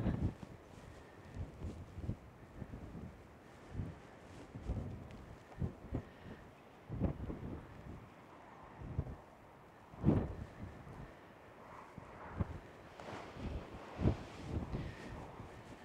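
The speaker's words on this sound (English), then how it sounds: "It's quite windy up here," Gusty wind on a coastal lookout above Australia's Turquoise Coast buffets the microphone in irregular low thumps and rumbles, rising and falling across the whole stretch with no talking.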